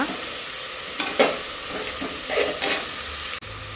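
Vegetables fry in a pan with salt and turmeric, giving a steady close sizzle broken by a few scraping stirs before it cuts off abruptly near the end.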